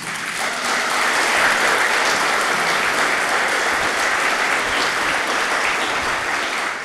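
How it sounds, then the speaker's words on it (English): Sustained audience applause at the Budj Bim World Heritage community celebration honouring the Gunditjmara people, a dense, steady wash of many hands clapping at full volume for several seconds. "another round of applause for Gunditjmara people"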